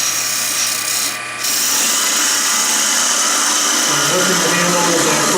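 A round woodturning tool cuts wood spinning on a lathe during a skew demonstration, producing a loud, continuous scraping hiss that dips briefly and then carries on steadily.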